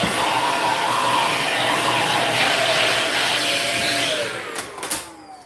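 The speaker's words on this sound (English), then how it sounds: "On this vacuum here." A commercial vacuum cleaner runs with a loud, steady roar, close up and continuous, then its pitch drops toward the end amid a couple of brief knocks.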